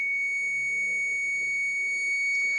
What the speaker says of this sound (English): So set this to the continuity symbol, so it can give the buzzer or continuity when we touch to each other.